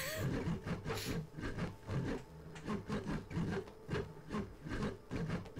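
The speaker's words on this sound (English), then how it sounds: "I think this is the sound of a dresser scraping across a floor." Heavy wooden dresser dragged across a floor, giving repeated low grinding scrapes in short rhythmic pushes with rasping texture, fairly close and steady.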